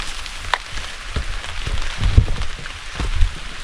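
Rain falls on a mountain pilgrimage trail, a close, steady patter of drops on surfaces with a few heavier thumps and no talking.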